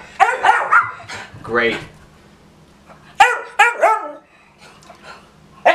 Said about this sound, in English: Our doggies are barking.